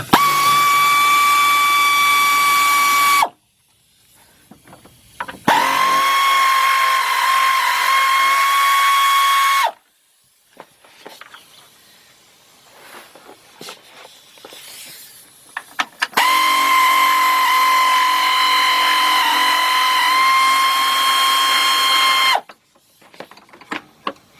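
A power driver whines as it backs 10mm screws out of a shield on a 1991 Mercury Capri during radiator work, running in three long, loud, steady bursts separated by quiet pauses, with no talk.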